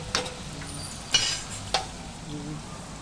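Homemade chakli frying in hot oil, a steady sizzle running through the clip, broken by a few sharp clinks and scrapes of a utensil.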